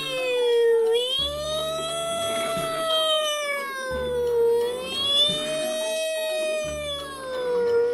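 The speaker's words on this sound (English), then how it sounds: "Here comes the ambulance." A toy ambulance's wailing siren rises and falls in slow, repeating sweeps, loud and close, with a low rumbling pulse underneath.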